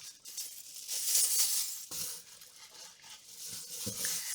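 Small metal charms clink and jingle softly as they are shuffled together, a continuous light rattling with occasional sharper taps, close but quiet.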